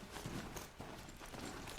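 Horse hooves clip-clopping in the video game Horizon Zero Dawn, a steady run of dense, close hoofbeats over a noisy game backdrop, heard alone without talk.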